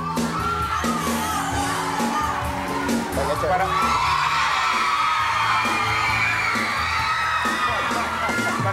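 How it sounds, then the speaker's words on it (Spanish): A TV studio audience on a late-night show cheers, whoops and claps in a loud, continuous roar for a departing guest, with shouting voices layered over the crowd noise throughout. "a Cristian, un aplauso para él."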